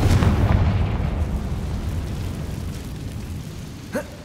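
Confringo blasting spell exploding in Hogwarts Legacy, a loud booming blast that rumbles and slowly fades over several seconds, ending with a short faint pop.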